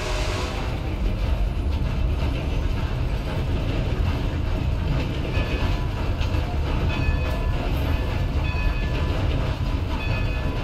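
A train in the Red Dead Redemption 2 video game rumbles on steadily and loudly for the whole clip. The dense rolling noise has faint track clatter in it and no pauses.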